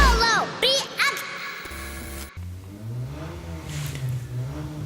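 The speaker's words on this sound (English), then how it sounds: "it's just my neighbor revving the f*** out of his race car" Short bursts of a race car engine revving, rising and falling pitch in quick succession, followed by a lower, rougher engine drone.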